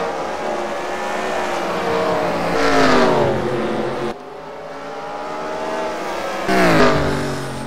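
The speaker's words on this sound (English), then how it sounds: "Eric Smith in the 41 car is pulling away" Simulated stock cars race at South Boston in the NASCAR Racing 2003 video game, engines roaring loud and steady, with two rising-and-falling sweeps as cars pass close by; no talking.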